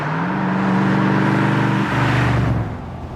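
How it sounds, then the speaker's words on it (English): Exhaust pipes on a car in Texas roar loudly up close, a sustained deep blare that holds steady, then drops in pitch and fades briefly near the end, with no voices over it. "Those exhausts, they're not just pipes, they're musical instruments."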